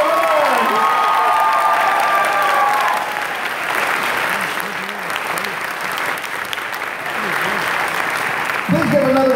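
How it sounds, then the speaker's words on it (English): A large convention-hall crowd applauds and cheers for cosplay contest winners at an anime event in Tulsa, a loud, sustained wash of clapping with shouts and a voice over the noise. "You get to be the recipient of everybody's clapping right here."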